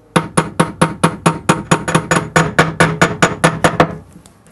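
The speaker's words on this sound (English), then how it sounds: "drop it into place and just gently start tapping that outside edge" A hammer gently taps a bearing into a washing machine drum, about twenty evenly spaced bright metallic strikes in a quick steady rhythm, close and clear with no talking.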